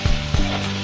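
Hot oil with cumin, mustard seeds and dried red chillies sizzling loudly for chickpea sundal tempering, with two quick spattering pops near the start followed by a steady close crackle.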